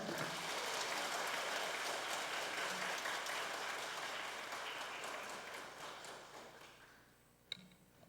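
Sustained applause from a large church congregation, dense and steady, gradually fading out toward the end.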